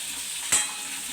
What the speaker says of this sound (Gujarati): આપણે આવી રીતે એને બધું તેલમાં મૂકી દીધું છે તો બધું હલાવી લેવાનું છે